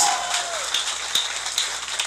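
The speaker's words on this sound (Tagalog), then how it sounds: "pumalakpak na malakas!" Loud audience applause at a corporate company event, dense steady clapping filling the room with a few sharper claps standing out, with a faint whistle-like tone early on.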